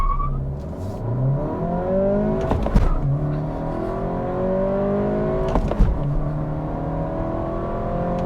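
A 2023 Acura Integra with a 6-speed manual pulls away hard from a light clutch dump at 2,000 rpm, its engine note climbing steadily through two gear shifts with brief dips, loud and continuous from inside the car.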